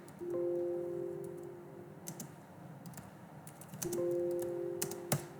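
Fast bursts of clicking on a computer keyboard while Python code is typed, close and moderately quiet, with a faint tonal hum in the background.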